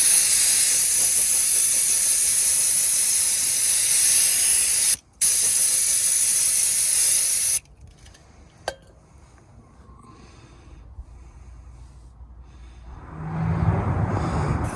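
Red oxide primer sprays in a loud, continuous hiss around a car's radiator area on an Astra G MK4. It breaks off briefly, resumes, then stops, leaving quieter handling noise and a low rumble.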